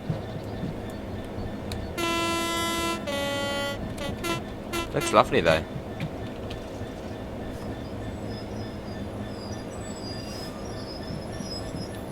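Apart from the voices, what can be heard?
freight train passing in Train Sim World 3 video game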